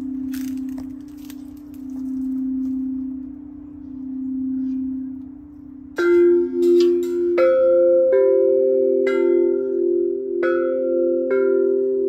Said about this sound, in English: now I want you to show me that wind chime